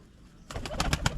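Pigeons coo in a short burst of soft, rhythmic pulses inside a coop, rising out of a quiet background after a brief pause, fairly close with no voices.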